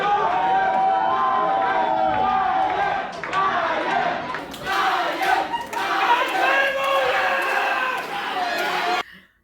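Crowd at a live wrestling show cheering, yelling and chanting together in a loud, rising and falling roar that cuts off abruptly at the end.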